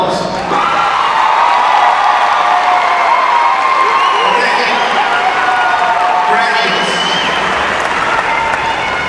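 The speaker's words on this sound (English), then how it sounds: "Parents, give your graduates a round of applause." Loud, sustained applause and cheering from a large crowd at a 2012 Rockford Jefferson High School graduation ceremony, with whoops and shouting voices mixed through the continuous clapping.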